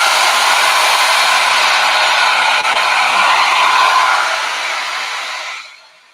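A handheld blow dryer set to high heat and medium speed, a loud, steady airy whoosh running alone for several seconds before cutting off.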